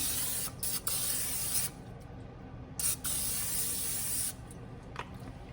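Repeated hissing bursts from a spray can of canola oil into a pot on a stove, close and loud, several long sprays separated by brief pauses.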